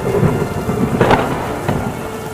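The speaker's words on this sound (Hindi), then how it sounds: "मोहन बारिश और आंधी में टहलता टहलता जंगल की तरफ पहुंचता है।" Thunderstorm in a forest with heavy rain and wind, loud rumbling thunder rolls swelling twice over a steady wash of rain falling on surfaces, no voices.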